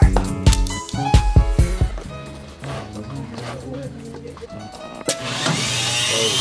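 Car starter motor jumped on a bench straight from the battery, a short burst of clattering, whirring spin with a metallic clunk as the gear throws out, then a lingering ring and hum under noisy background.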